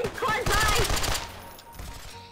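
Rapid gunfire in Garry's Mod military roleplay, with bullets ricocheting off a quad bike, comes as a loud burst of sharp shots in the first second and a half before easing to quieter noise, with voices mixed in.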